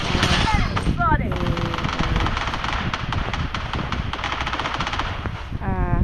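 Video-game gunfire rattles in rapid bursts, mixed with other game effects and a voice talking over it.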